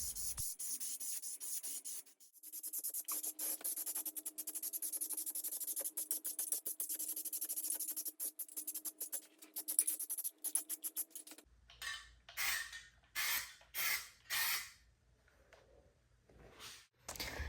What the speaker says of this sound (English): I like spraying several light coats